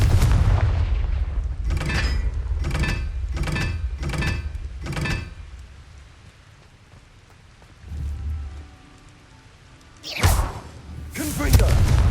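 Explosive Confringo spell blasts in Hogwarts Legacy: a rapid run of sharp bursts, then a quiet stretch and two loud, booming explosions near the end.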